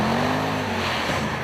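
An ALPINA B6 car driving with a steady engine drone and a tone that drops slightly, briefly and fairly close, no talk.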